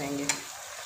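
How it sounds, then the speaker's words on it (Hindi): Onions frying on low heat in a pan for a chicken karahi give a brief, faint, even sizzle with a quick stir click near the start. "ये फ्राई हो रहे हैं हल्की आंच पे"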